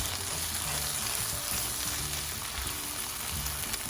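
Egg patty filling with ketchup cooking in a pan, a steady, moderately loud sizzle and crackle running evenly from start to finish with no talking.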